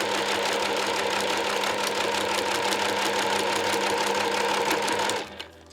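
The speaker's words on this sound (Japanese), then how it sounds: "このループは少し長めに用意してますので、返し縫いはしないでそのまま縫い始めます。" A sewing machine runs steadily, stitching a long nylon loop for a small eyelet pouch; the motor drone holds continuous and close for about five seconds, then stops abruptly.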